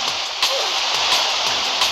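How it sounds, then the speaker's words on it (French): Tsunami waves in the Roblox game Tsunami Brainrot: a loud, steady rushing wash of water with periodic surges, close and continuous. "il y a plein de vagues bizarres"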